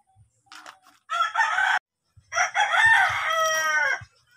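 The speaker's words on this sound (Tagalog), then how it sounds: "Fighting cock." A fighting cock rooster crows twice in a row, close and loud, each call a long strained cry, with a few faint clucks before the first crow.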